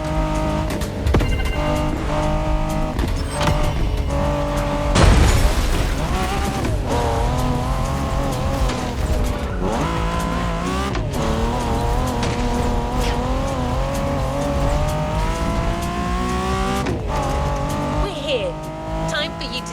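A Bugatti Veyron and a Bugatti La Voiture Noire race in The Crew Motorfest, with engines roaring through rising and falling revs, a sharp burst and tire squeal near the start, and a narrating voice talking over the continuous drone.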